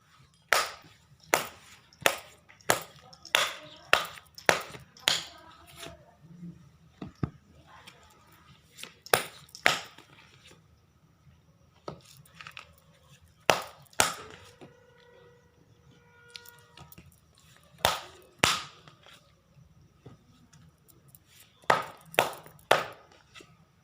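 Tarot cards are shuffled by hand: sharp, close slaps and riffles come in irregular bursts with short pauses between, clear and dry against a quiet room.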